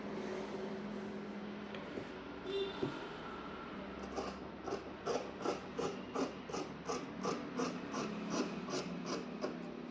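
Scissors cutting kurti fabric, a quiet, close, regular series of crisp snipping strokes in a steady rhythm after some softer rustling of the cloth.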